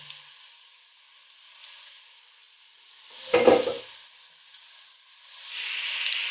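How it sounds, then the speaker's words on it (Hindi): Onions cooking in a pan over a slow flame, a soft hiss with a brief louder stir and scrape midway and a rising sizzle near the end, close and quiet with no talking. "स्लो फ्लेम में हमने प्याज को ब्राउन कर लेना है।"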